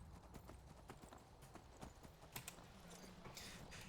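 Horse hooves clip-clop in Skyrim as a fast, even run of faint hoofbeats with a soft whinny-like sound near the end, and no talking over it.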